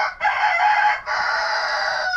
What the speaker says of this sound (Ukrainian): А по голосу, наче курочка.